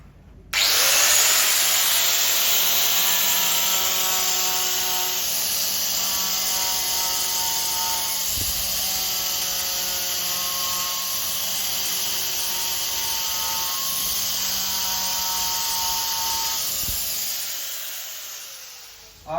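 Steady, continuous whine of a 3M finishing tool running a medium Roll-Op Bulls belt over a stainless steel sheet, with sustained tonal harmonics and a broadband hiss, loud and close, holding evenly for the whole stretch before cutting off.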